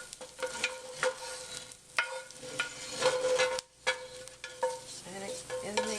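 Onions and celery stirred into a sizzling pot of homemade chili, with a steady fry hiss broken by repeated scraping strokes of a spoon against the pot.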